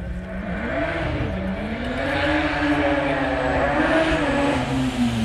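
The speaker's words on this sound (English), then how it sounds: "Supercharged 1400 Suzuki Hayabusa. Listen to this noise, folks." A former Dallara Formula 3 open-wheeler with a supercharged 1400 Suzuki Hayabusa engine at a sprint meeting, its high engine note rising and falling through several revs and gear changes as it runs close by and loud.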